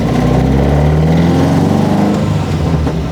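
An Alfa Romeo 33 race car with a close-ratio gearbox drones loudly and close, its engine note holding high and steady under load, then shifting and dipping slightly near the end.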